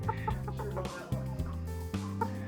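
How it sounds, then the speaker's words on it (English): A chicken clucks close by in a steady run of short, rhythmic clucks, repeating in bursts with a low harmonic-rich tone, with no talking over it. "That is so cool. Chicken."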